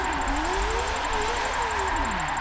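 Loud, raspy engine of a Mazda MX5 drift car in a racing video game, revving and wavering in pitch through a slide with a steady high whine on top, continuous and close.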